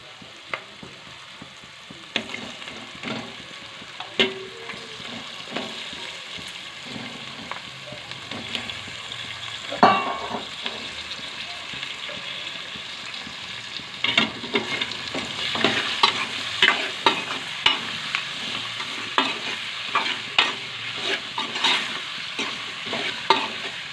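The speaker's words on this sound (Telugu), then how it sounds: "కొద్దిగా మనం నూనె మసిలింది, మన తాలింపు కూడా వేడైంది కదా. ఇందులో మనం ఇప్పుడు చికెన్ వేసుకుందాం" Pieces of chicken crackle and sizzle loudly in hot oil with tempering, with steady stirring and popping that grows more intense partway through.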